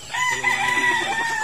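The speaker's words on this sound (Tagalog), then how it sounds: "Itong mga manok ng mga kasamahan ko sa trabaho galing Bacolod dyan." A fighting cock from Bacolod crows once, loud and close, its drawn-out call sounding alone.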